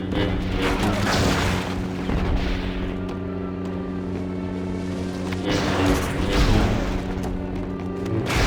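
A loud, rumbling blast from the Star Wars Battlefront 2 video game as a shield generator is destroyed, with heavy booming energy rising and falling across several seconds amid a dense layer of game noise.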